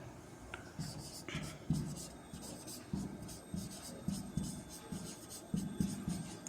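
Chalk or pen writing on a board or paper during a physics lesson, short scratchy strokes in bursts, faint and close, with quiet speech around them.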